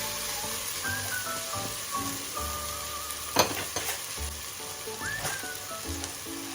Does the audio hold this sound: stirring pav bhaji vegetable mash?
yes